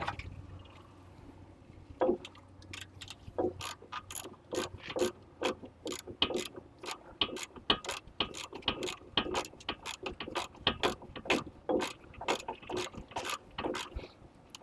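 A hand ratchet clicks steadily as it tightens a bolt near a truck's control arm and sway bar, close and loud, with a long run of even, rapid pawl clicks after a brief quieter start.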